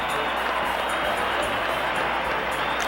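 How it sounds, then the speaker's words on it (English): A hockey arena crowd gives Don Cherry a standing ovation, a broad, steady wash of applause and cheering filling the space, with a commentator's voice running over it. "A standing ovation for Don Cherry as this crowd en masse almost"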